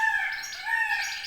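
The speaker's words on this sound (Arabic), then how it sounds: "هذا صوت اخوتي الطاووس هو اللي يدير هذا النداء." A peacock gives a loud, drawn-out wailing call near a goldfinch aviary: a single sustained, slightly wavering tonal cry lasting over a second, close and alone, with no voices.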